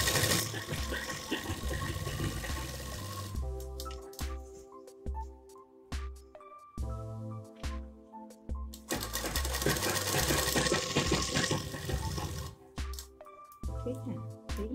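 A sewing machine stitches a palazzo in bursts of rapid whirring, stopping and restarting several times with short quiet gaps and light handling noises between runs.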